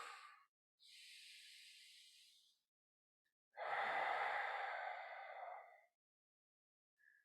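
Slow, deep breaths during a movement therapy class for core stability, three long airy exhales separated by silence, the middle one fullest and loudest, heard close with no talking.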